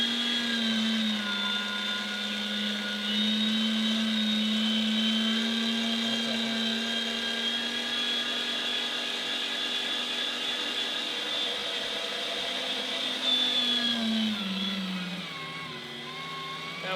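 A kitchen grinder runs steadily for about fifteen seconds, grinding rendered beef fat for tallow, with a loud sustained motor whine that holds even pitch before winding down at the end; no talking.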